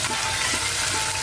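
Ginger-garlic paste fries in hot oil with cinnamon, cardamom, cloves, peppercorns and bay leaf, giving a dense, continuous close sizzle that stays even throughout the short moment.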